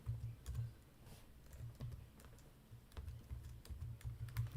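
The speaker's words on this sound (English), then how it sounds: "I'm typing long distance on my keyboard here." Keys clatter in quick, uneven bursts on a computer keyboard during a live broadcast, close and clear with short pauses between runs and no talking.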